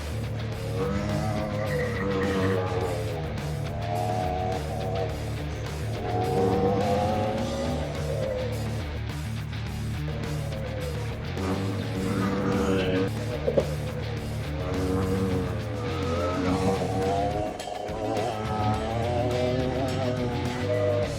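Go-karts capable of about 70 mph race at speed, their engines droning steadily and loud for the whole stretch, with rising and falling pitch as they accelerate and pass.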